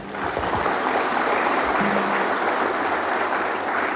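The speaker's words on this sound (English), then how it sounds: "I think we probably should put all our hands together for all the teachers" A graduation crowd at a Muslim college claps for the teachers, with a broad, steady wash of applause from a large audience that stays even throughout and a brief murmur of voices early on.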